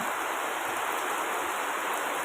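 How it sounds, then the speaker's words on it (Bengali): Heavy rain pours down in a constant, loud hiss, drumming steadily on surfaces with no voices. "প্রচণ্ড ভারী বৃষ্টি।"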